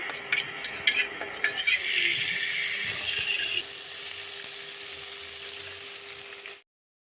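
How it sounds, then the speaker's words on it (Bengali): Beetroot and carrot pieces fry in a pan with a loud, steady sizzle for several seconds, then settle to a quieter, continuous hiss before cutting off. "বিট আর গাজরের ভাজাটা করে রেখে"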